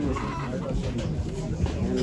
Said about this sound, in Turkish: Şu harika bir horoz var.